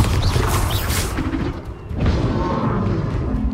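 Bombarda blasting spell from Hogwarts Legacy, a loud booming crash with a rumbling burst that dips briefly before a second heavy impact swells up, dense and close.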